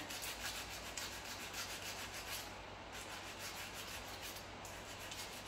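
Sandpaper rubs steadily over curb rash on the alloy wheel of a 2019 Nissan Maxima SL, a continuous close, even scratchy scrubbing that hardly breaks.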